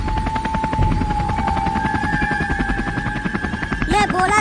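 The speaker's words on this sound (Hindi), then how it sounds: "मैं बोला था ना कि मुझे हेलीकॉप्टर उड़ाना आता है। देखो कितना बढ़िया उड़ा रहा हूँ।" A helicopter flies with a steady, loud rotor chop and engine hum throughout, in a comic sketch, with a brief rising whine near the end.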